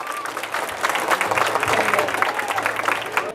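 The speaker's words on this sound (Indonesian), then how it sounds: "Tepuk tangan dong semuanya." A school audience at a high school student election event applauds steadily, a dense wash of many clapping hands with some crowd murmur underneath, fairly loud throughout.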